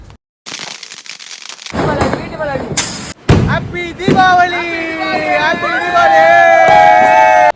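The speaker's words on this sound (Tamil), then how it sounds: "நைட்டு நாங்கள் வெடிக்க ஸ்டார்ட் பண்ணுறோம் மக்களே பட்டாசை." Diwali firecrackers burst at night in loud, sharp cracks, followed by a steady run of rising whistles and crackling, with a crowd's voices murmuring underneath.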